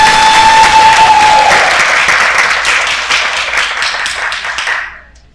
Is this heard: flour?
no